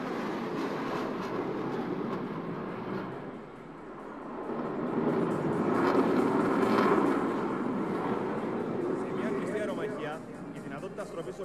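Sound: F-16 fighter jet flying in an air show

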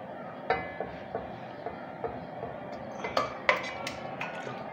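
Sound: marinated chicken being added to and cooked in a pan

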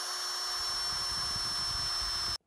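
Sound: drill driving screws into benchwork

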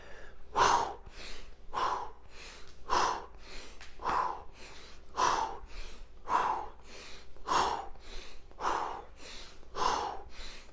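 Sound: exhaling breaths during a rotation exercise

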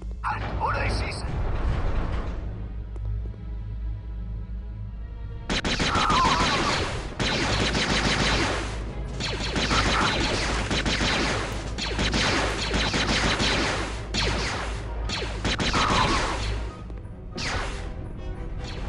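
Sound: gunfire in the video game Star Wars Jedi Knight II: Jedi Outcast

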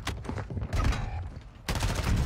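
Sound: sniper rifle gunshot in a video game

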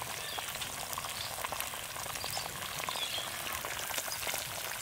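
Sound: eggs frying in oil

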